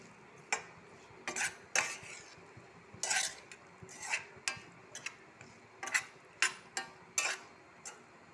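Okra is stirred in a pan with a series of separate scraping and clattering strokes at an irregular pace, close and fairly quiet, with a faint background hiss between them.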